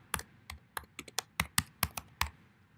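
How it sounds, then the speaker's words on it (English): Quick bursts of typing on a computer keyboard, about a dozen crisp, close keystrokes in an uneven rhythm, with no voice over them. "I can type in my name"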